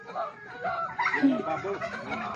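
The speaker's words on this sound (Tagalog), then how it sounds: "Wow, it's a chicken." Chicken clucking mixed in with a background of people talking nearby, the bird calls rising and falling irregularly throughout.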